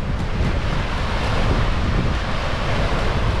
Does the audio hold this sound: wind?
yes